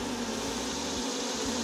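A honeybee swarm clustered around its queen while a nuc is started, giving a steady, dense, close buzz that holds without a break.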